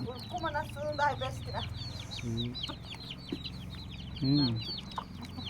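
Hens cluck in quick repeated bursts nearby, with a few longer drawn-out calls rising above a low steady background hum.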